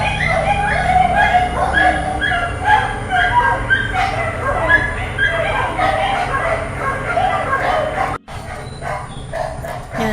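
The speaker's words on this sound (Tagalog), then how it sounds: "Ang ingay ng aso" Dogs barking and yipping repeatedly in a busy chorus, fairly loud and continuous, with a voice talking underneath.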